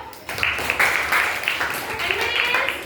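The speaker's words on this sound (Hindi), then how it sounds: "ताली बजाओ" A classroom of students claps on a teacher's cue during a grammar lesson, a loose burst of hand claps mixed with voices talking over it.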